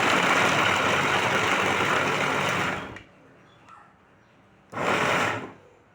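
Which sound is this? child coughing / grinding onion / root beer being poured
grinding onion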